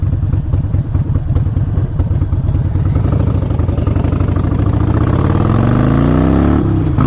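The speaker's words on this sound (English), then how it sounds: "This bike's got a good sound. It's pretty loud." A Harley-Davidson Sportster 1200 motorcycle engine runs loud and close, a steady lumpy rumble that climbs in pitch as it revs up and holds high near the end.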